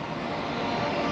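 A steady, loud, broadband roar of aircraft from a nearby Air Force base, heard from atop a parking garage, filling the whole moment as a constant drone with no talking.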